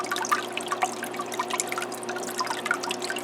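Gentle trickling and dripping of water spilling over a small waterfall in a red clawed crab aquarium, soft patters and splashes over a low steady hum from the tank equipment.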